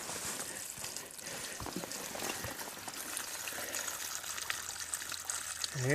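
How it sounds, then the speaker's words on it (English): Cold, clean water trickling in a stream in a ravine beside a mountain trail, a faint continuous babble and splash heard up close and steady throughout, with no talking. "Good, cold, clean water."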